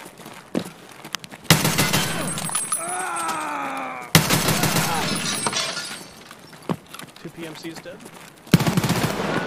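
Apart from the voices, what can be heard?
gunfire in Escape from Tarkov video game, Interchange map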